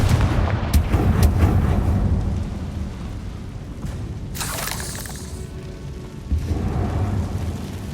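A Confringo spell detonates in Hogwarts Legacy with a loud booming explosion and crackling debris, followed by a second bright burst midway and a rumbling tail, with no talk over it.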